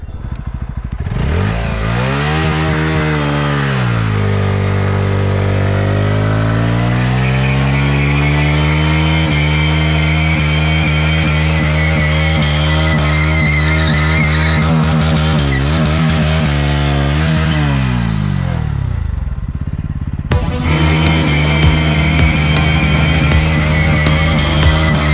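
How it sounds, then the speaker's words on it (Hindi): A Bajaj NS200 motorcycle doing a smoky full-power tyre burnout: the engine revs up and holds at a loud, sustained, high-pitched scream for about fifteen seconds, drops briefly, then roars again close by. "तो यहाँ पे फुल पावर के साथ बर्नआउट मारते हैं एंड देखते हैं कैसी रहता है।"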